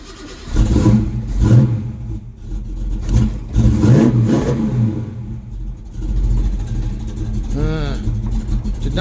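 A carbureted car engine on fast idle runs unevenly, revving and dipping as if about to stall, heard up close with a person talking over it in bursts.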